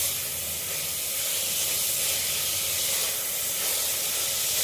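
Sliced onions sautéing in hot oil for a Konkani-style prawn pulav. A steady, close hiss and sizzle holds evenly throughout with no talk.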